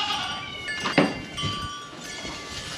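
Goats on a farm, a mother with her kids, give a few short bleats at moderate distance, one sharper call standing out among faint rustling, with no talk.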